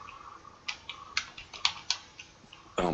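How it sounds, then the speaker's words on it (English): Keys clacking on a wireless computer keyboard, a short run of separate, crisp taps at an uneven pace, close and clear over a faint background hiss, ending in a louder clatter. "My solution is this wireless keyboard."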